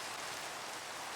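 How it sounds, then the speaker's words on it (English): Rain falls in the video game Minecraft, a steady, even hiss of dense rainfall with no distinct drops or thunder, moderately quiet and uninterrupted. "More rain."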